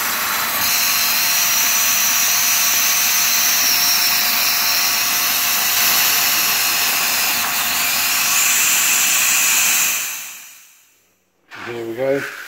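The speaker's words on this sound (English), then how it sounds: "We put it in a Hoover vacuum seal bag." A loud Hoover vacuum cleaner drones steadily for about ten seconds while sealing a storage bag of fish food, then winds down to silence before a brief rustling sound.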